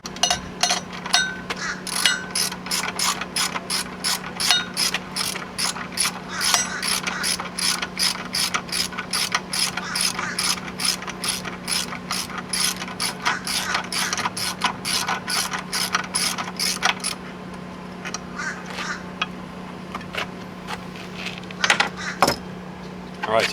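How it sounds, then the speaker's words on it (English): A ratchet clicks in a rapid, steady series while backing a bolt out of a Yamaha 250 hp outboard during a water pump impeller job, with a low steady hum underneath and a few scattered clunks near the end. "I can just back that bolt out by itself."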